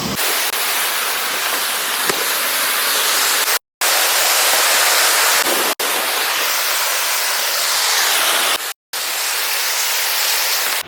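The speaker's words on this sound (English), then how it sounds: "So that's the first waterfall." Waterfall at Morialta Conservation Park, a loud, steady broadband rush of falling water filling the whole scene, broken only by a few short dropouts.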